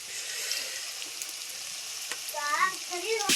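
Masala gravy sizzles steadily in a pan after a spoonful of water goes in, with a spoon scraping through it and a faint voice briefly near the end.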